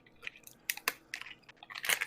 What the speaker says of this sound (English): crunching candy now?